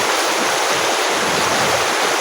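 Swollen floodwater rushes loud and close through a stream where eels are being fished, a dense constant roar with no breaks and no voices.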